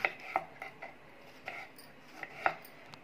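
Two tomatoes being cut for a pot of alu paan bhaji, a handful of sharp, separate knife taps spaced irregularly, close and fairly quiet, with no talking.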